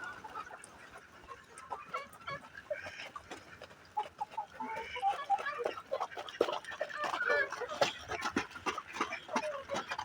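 Free-range farmyard chickens, including fighter-breed birds, cluck and call in a busy chorus on a village farm, steady and close, with brief talk under them.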